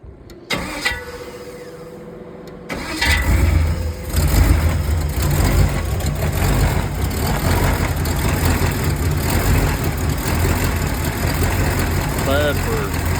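A Pontiac Firebird engine runs with the torque converter off, a steady, close, low rumbling idle that rises to a stronger level after a few seconds and holds through to the end, with a few brief voice sounds near the start.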